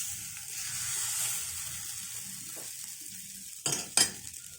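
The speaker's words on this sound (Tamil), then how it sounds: "இப்போ நம்ம தோசை கல்லை வச்சு நம்ம தோசை ஊற்றிக்கலாம்." Beetroot dosa batter spread on a hot griddle gives a soft, steady, high sizzle. Two quick utensil clinks follow close together near the end.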